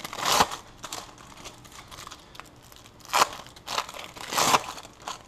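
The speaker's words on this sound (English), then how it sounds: "Unwrap cheese." Cheese wrapped in plastic being unwrapped, giving several bursts of crinkling and crackling spread unevenly over a few seconds, close by and with no talking.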